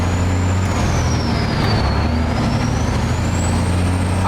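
A heavy truck engine idles loudly and close with a steady low exhaust drone, while a thin whistling tone from the truck window rises and falls above it.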